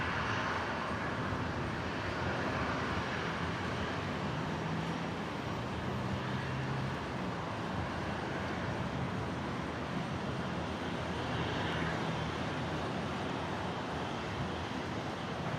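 A Qantas airliner arriving at Brisbane airport produces a broad, steady jet roar at moderate distance, holding almost unchanged for the full stretch with no voices.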